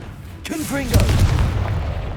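Confringo blasting spell in Hogwarts Legacy combat against a troll, a single sharp boom following a short whooshing cast, with game music and a spoken voice around it.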